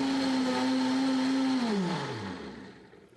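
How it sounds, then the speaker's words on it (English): A quiet kitchen blender running on its puree setting, giving a steady motor whine that holds level and then winds down in pitch as it is switched off, fading out near the end with no talk. "I want a non-noisy blender so I can make smoothies without waking people up."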